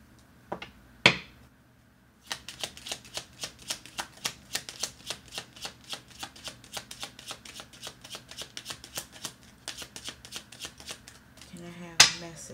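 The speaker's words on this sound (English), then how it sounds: "I think I'm gonna pull two more cards." Tarot cards are shuffled by hand in a steady, close run of crisp papery flicks lasting several seconds. A couple of louder slaps come before the run, and a final card is pulled with a sharp snap at the end.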